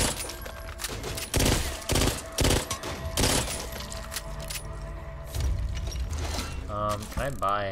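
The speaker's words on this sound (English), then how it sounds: "Expect this to be a 3-round burst gun." Gunfire from a 3-round burst weapon in the Back 4 Blood video game, several loud bursts of shots cutting through a busy game soundscape with mechanical clatter.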